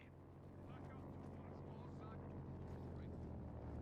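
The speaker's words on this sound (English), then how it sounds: "We got Fallschirmjägers popping in from the sky. Let's follow this plane." Transport plane dropping paratroopers in Company of Heroes 2, a steady low engine drone throughout, joined by faint battle sounds and a commentator's voice on top.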